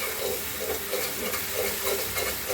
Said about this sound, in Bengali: এখন এটা একটু এভাবে তেলে হালকা 2-3 মিনিট ভেজে নিই সরিষা রসুন